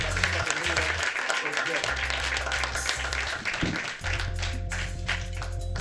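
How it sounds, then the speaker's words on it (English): A comedy club audience claps and applauds for a comedian at a stand-up show, steady and fairly close, mixed with DJ music and a host speaking. "Y'all make some noise for Mr. Willie Lynch Jr."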